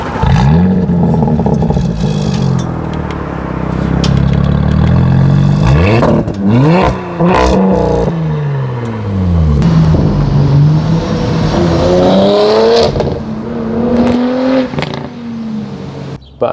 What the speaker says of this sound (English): This is a aftermarket milltek exhaust that the dealership has fitted